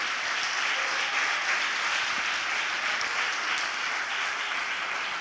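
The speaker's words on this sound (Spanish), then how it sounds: "Si vas a aplaudir para Dios" A church congregation claps for God during a sermon, a steady, even wash of applause heard from a distance and fairly soft, with no break for the whole stretch.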